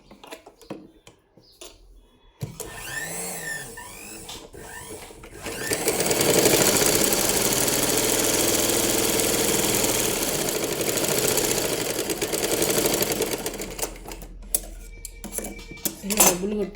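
A sewing machine runs a double stitch, whirring fast and steady for about eight seconds after a voice speaks briefly at the start, then slowing into a few short clattering runs.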